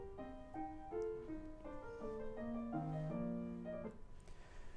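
A Mozart piano recording plays alone, a clear sequence of sustained melodic piano notes with overlapping chords and a steady rhythm, at moderate, even loudness from start to finish.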